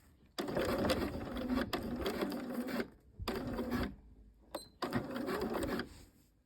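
A sewing machine stitches a reinforcement seam on trousers in four loud, close bursts of rapid mechanical whirring, separated by brief pauses.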